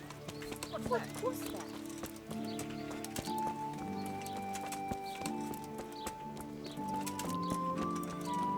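A horse's hooves clip-clop steadily in the medieval video game Kingdom Come Deliverance, a continuous patter beneath sustained background music, with a voice speaking over it.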